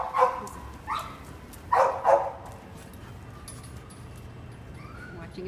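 A dog barks from another pen in a kennel, a few short barks spread over the first couple of seconds at moderate distance, then quiet room noise.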